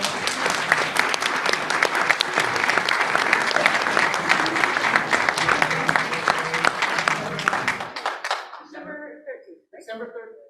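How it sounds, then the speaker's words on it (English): A round of applause at a board of education meeting, sustained many-handed clapping that holds steady for several seconds, then fades out abruptly, followed by a voice starting to speak. "We have one more round of applause."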